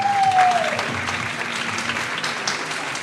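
Studio audience clapping on a Pakistani cricket talk show about a T20 loss to England, a steady mid-level patter of hands with a faint tone sliding down at the start.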